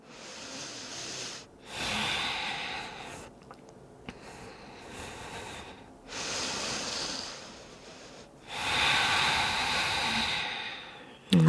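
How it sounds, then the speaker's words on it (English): Slow, deep yoga breaths: three long, airy inhale-exhale swells separated by quiet pauses, close and fairly soft, with no talking. "Couple breaths here."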